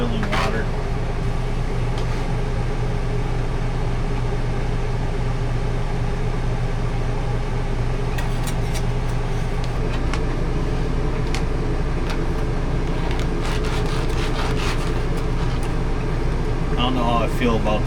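A Jetboil camping stove roars with a steady, constant burner hiss and hum as it boils water, close and unbroken for a long stretch, with a few sharp clicks and knocks near the end and some speech.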